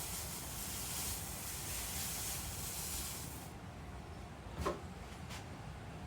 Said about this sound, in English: It's literally steaming the water right off of this